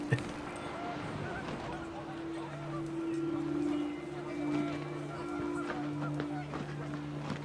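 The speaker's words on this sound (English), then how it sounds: "panicked geese appeared and quickly went" Panicked geese honk repeatedly in the video game What Remains of Edith Finch, with overlapping nasal calls and a flurry of activity under someone narrating.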